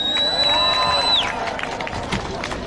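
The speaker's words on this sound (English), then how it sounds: "Let's give a big round of applause." Crowd applause and cheering at an outdoor Stop Asian Hate rally in 2021, a loud, dense burst of clapping that swells and then thins over a few seconds, with a high sustained tone fading out early.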